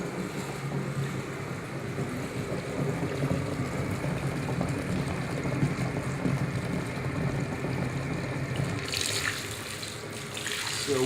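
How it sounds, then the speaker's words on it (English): Water runs steadily into a two-compartment commercial sink being filled for a bubble bath, a continuous close splashing rush that holds through the whole stretch, with a faint brighter trickle near the end. "I can fill this up the rest of the way and get all those suds to cover me"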